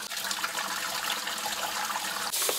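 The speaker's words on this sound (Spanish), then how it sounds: "vamos a estarle removiéndole toda esta agua y le vamos a poner agua limpia" Water pours and splashes continuously while beef tripe is rinsed for mondongo soup, a steady close gush with a brief sharper splash near the end.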